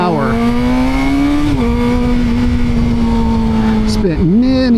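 A Suzuki GSX-R600 sport motorcycle engine drones loud and steady while riding, its pitch dipping briefly a couple of times as the throttle eases.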